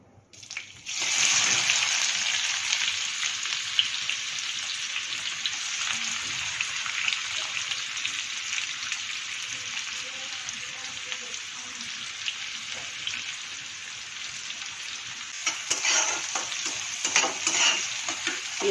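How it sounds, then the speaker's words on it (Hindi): Onions fry in hot oil for paneer bhurji, giving a continuous bright sizzle that holds steady for the whole stretch. Occasional spoon-stirring clatter rises near the end. "एबे मु प्याज पकेबी"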